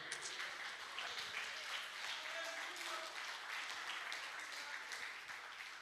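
Church congregation clapping hands during a Portuguese-language worship service: dense, continuous applause filling the room, steady and fairly loud throughout, with a voice speaking and faint tonal sounds over it.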